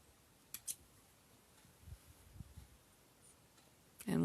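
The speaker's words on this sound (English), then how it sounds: "So I'm going to cut off my excess threads," Small scissors snip off excess threads from a fleece neck warmer, giving a few quiet, crisp cuts close by, followed by a louder rustle of fabric at the end.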